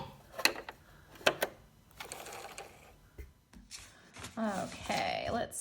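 A sewing machine back stitches at the end of a fly zipper seam in short mechanical bursts, with quiet gaps between runs and a longer stretch near the end, heard close up while a person talks over it.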